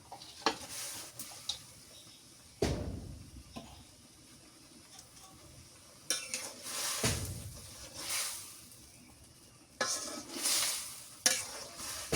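Okra and tengra fish frying in a pan, a soft ongoing sizzle broken by stirring and scraping strokes that come in clusters, close but fairly quiet.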